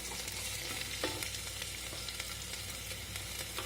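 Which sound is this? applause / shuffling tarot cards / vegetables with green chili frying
vegetables with green chili frying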